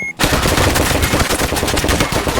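Loud rapid automatic gunfire in the Roblox FPS game Jailbird, a dense close burst of repeated shots starting after a brief pause and continuing to the end, with no speech.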